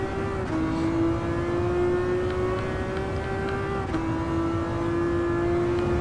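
A Ferrari F50 screams around a track in Gran Turismo 7, its high-pitched engine held at steady revs with brief dips at gear changes, loud and close throughout.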